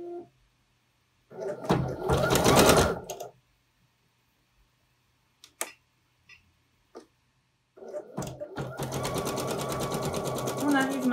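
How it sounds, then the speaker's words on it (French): An embroidery machine stitches a vinyl appliqué, with a burst of rapid mechanical stitching, a quiet pause with a few small clicks, then steady stitching resuming up close. "Et je peux remettre ma machine en route."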